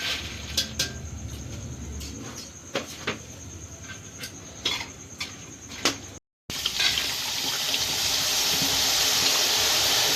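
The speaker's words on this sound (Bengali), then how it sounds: "সব বন্দিগুলোকে ভেজে নেবো" Boondi, small drops of gram-flour batter, frying in sunflower oil over high heat, giving a steady bright sizzle broken by scattered clicks and taps, with a louder, denser hiss after a brief gap.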